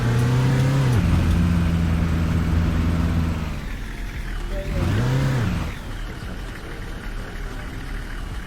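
A coach bus in Fernbus Simulator pulls away, its engine droning loudly and steadily before rising in pitch as it accelerates, then settling again, with no talking.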